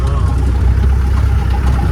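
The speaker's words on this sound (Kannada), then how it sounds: "ಮಹೇಂದ್ರದೇ ಯಾವುದು ಹಳೆ ಇಂಜಿನ್." An old Mahindra jeep engine idles steadily and loudly up close with a low continuous rumble, heard on a trip to Idakallu caves in Wayanad.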